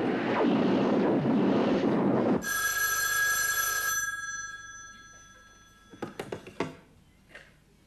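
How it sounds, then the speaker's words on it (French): A telephone bell rings loudly and shrilly for a moment, after a burst of broadband rushing noise, then gives way to a few sharp clicks and knocks as the receiver is picked up. "Formidable mise en scène d'un téléphone qu'on décroche."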